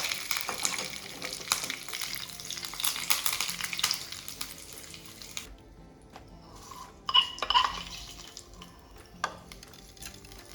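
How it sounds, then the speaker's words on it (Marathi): Cumin seeds, sesame and curry leaves temper in hot oil for khandvi, a bright crackling sizzle that runs continuously then drops away sharply, followed by a few faint clinks and light kitchen sounds nearby. "आपण जिरे आणि तीळ आणि कढीपत्त्याचा तडका दिलेला आहे"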